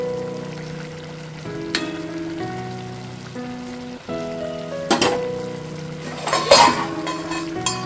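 A metal lid clatters onto a pan of Bengali-style cauliflower roast with green chillies, making two short rattling knocks near the end over soft background music, with no talking.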